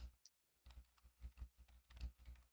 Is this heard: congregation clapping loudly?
no